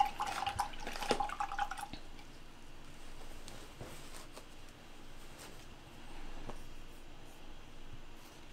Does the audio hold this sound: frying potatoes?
no